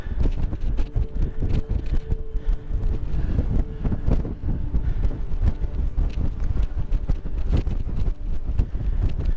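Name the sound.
strong wind on mountain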